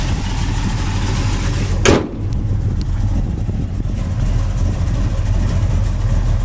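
A 1969 Chevelle SS engine runs steadily in a loud, low idle with one sharp blip around two seconds in before settling back to the even rumble.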